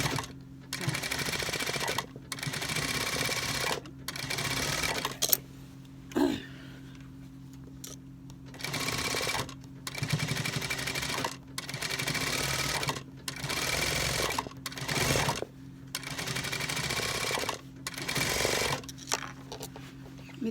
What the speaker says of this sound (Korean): 스티치 넣고 있는 거예요. 밑단을 박음으로써 밑단 처리를 해주는 거죠